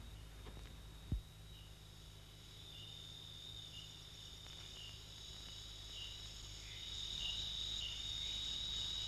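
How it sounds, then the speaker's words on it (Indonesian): Crickets chirp steadily in a quiet swamp forest, a faint, even high trill carrying on alone against a low background hum, with one brief thump early on. "hanya terdengar desing nyamuk dan suara jangkrik yang berdendang"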